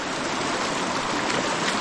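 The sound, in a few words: natural spring water flowing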